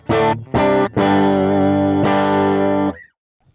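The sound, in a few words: Gretsch White Falcon electric guitar with Bigsby arm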